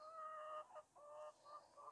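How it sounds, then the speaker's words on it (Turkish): Chickens in a backyard coop give a few close, bright clucks and drawn-out calls in quick succession, clear against a quiet background. "Tavuklar hepsi ayaklanmış."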